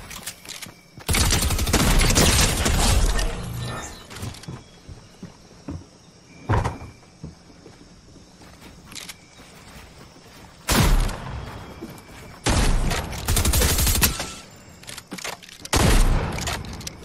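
Bursts of SMG gunfire in Fortnite crackle in rapid volleys, several long strings of shots separated by quieter gaps with faint clicks and movement, loud and close with no talk over them.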